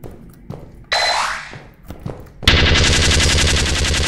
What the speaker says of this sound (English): I died to a turret.